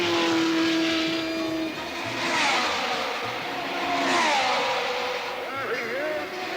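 Racing cars at the 1965 Indianapolis 500 with Clark, Jones and Andretti running together, engines roaring loudly and swelling and fading as the cars sweep past one after another.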